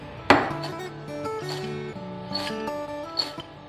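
Crispy fried kurkure pasta tossed with masala spice mix, giving a sharp crunchy rattle at the start followed by softer repeated rustling and crackling close by, with a faint musical tone underneath.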